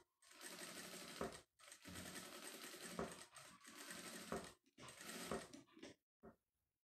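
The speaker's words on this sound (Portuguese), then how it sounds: "vou bater uma costura de segurança na beira todinha aqui" A sewing machine runs a safety seam along the edge of lining fabric backed with interfacing, in bursts of steady rapid stitching broken by short pauses, close and loud with no talking.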